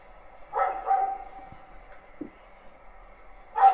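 A dog barks in a ghost video: two quick barks close together near the start and another toward the end, moderately loud over a quiet background hum.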